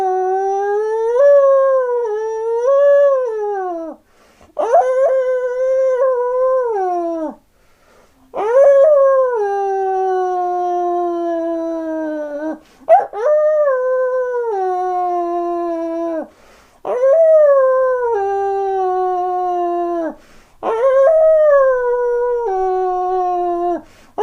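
A person's voice imitates a dog howling at the moon, giving about six long, drawn-out, wavering howls separated by short pauses, close and loud with nothing else behind them.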